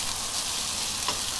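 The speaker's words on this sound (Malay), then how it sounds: "Kemudian masukkan nasi sejuk semalaman lah" Day-old cooked rice for dried-shrimp fried rice, sizzling steadily in a hot wok, a dense close crackle with no talk.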